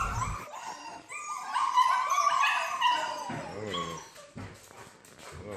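Puppies and their mother dog whimper, yip and howl excitedly. The overlapping, high-pitched cries are close and fairly loud throughout, with no human talk.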